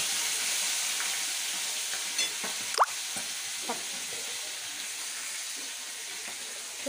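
Fish frying in spluttering oil in a home kitchen, giving a steady close hiss broken by a few sharp pops and crackles, with no talk.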